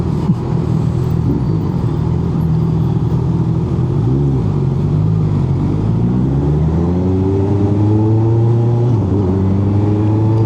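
A Honda CB1000 Hornet motorcycle with a Fireblade engine revs up and down, rising and falling in pitch over a steady loud rumble, close by and continuous throughout.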